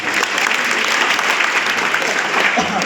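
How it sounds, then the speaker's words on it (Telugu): A crowd claps loudly and continuously, a dense steady burst of applause throughout. "భరత్ చంద్రచారి కూడా గట్టి చప్పట్లు కొడదాం."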